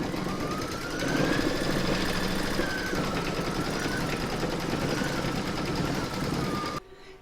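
An embroidery machine runs a satin stitch around the edge of a T-rex appliqué, giving a fast, steady mechanical buzz with a faint whine. It carries on continuously and stops abruptly at the end.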